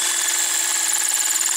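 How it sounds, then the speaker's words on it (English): A battery-powered drill grinds into concrete with a continuous, high, gritty whine that holds steady and loud from start to finish. "drilling concrete with the battery powered drill is no bueno."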